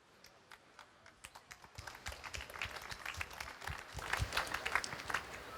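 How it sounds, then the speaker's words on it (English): Audience applause after a talk on a demonstration stage, starting as scattered claps and swelling into steady clapping from a crowd heard at a slight distance, fairly faint overall. "I guess that's your applause."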